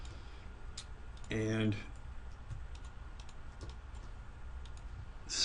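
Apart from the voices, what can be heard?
computer mouse clicking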